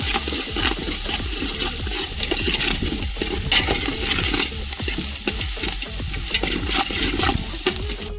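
Onions frying and being stirred in a large pot over high heat for an outdoor rainy-day biryani: steady loud sizzling with repeated scraping stir strokes throughout, no talk.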